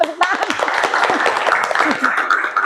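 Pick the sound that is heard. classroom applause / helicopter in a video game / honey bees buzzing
classroom applause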